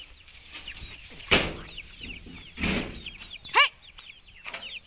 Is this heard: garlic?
no